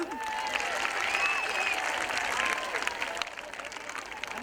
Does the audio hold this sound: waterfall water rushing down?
no